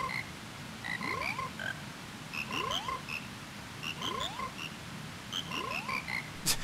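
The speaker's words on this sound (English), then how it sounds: "You can see all five of the frogs are now sitting here on their lily pads." Five frogs on lily pads in Majora's Mask croak in a rhythmic chorus, four repeating rising-and-chirping phrases over a steady background, moderately loud with no talk.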